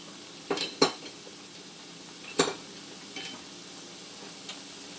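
Cooked cold basmati rice goes into a frying pan, with a few metal utensil clinks and scrapes against the pan over a low sizzle, then quieter stirring taps.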